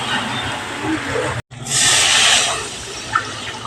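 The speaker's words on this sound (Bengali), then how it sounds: "এবার জল দিয়ে দেবো" Water poured into a pan of fish curry with fried spices gives a loud, rushing hiss and sizzle, broken by a brief gap before a second surge of bubbling steam.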